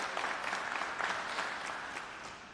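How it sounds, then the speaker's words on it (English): An audience claps for a participant who has just sat down, a steady patter of many hands over a couple of seconds that fades slightly toward the end, with no talk over it. "Y'all clap it up for him."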